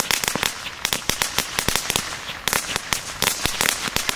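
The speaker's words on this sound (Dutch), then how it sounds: "Ze zijn echt goed van die knetterlinten." Crackling firework streamers bursting outdoors, a dense run of sharp crackles and pops in rapid irregular clusters, loud and close, with brief lulls between volleys.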